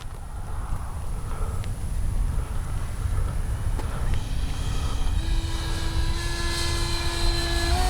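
Kavan Skyfox L-39 80mm RC model jet making a low gear pass, its ducted-fan whine steady over wind rumble and rising in pitch toward the end as the jet passes near.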